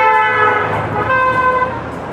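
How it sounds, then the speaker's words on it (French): A car horn on a road gives one long, steady honk that holds for about two seconds under light traffic noise, loud and fairly near. "ça c'est du klaxon"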